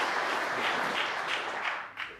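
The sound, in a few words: audience applause at snooker match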